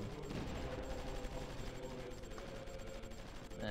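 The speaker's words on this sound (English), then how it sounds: "just gotta get our artillery into the action" Strategy game battle in Supreme Ruler The Great War, with faint, dense artillery and gunfire rumbling continuously under the game's background sound.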